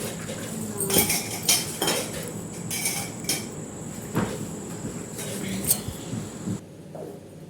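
A few metal utensils and dishes are stacked in a home kitchen, giving repeated clinks and clatters in an uneven rhythm, close and fairly loud, over a steady background hum with faint speech.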